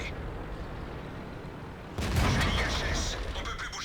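Tank cannon fire in a tank battle game, a sudden loud boom cutting in midway over a low rumbling engine drone, followed by rattling debris and crackle.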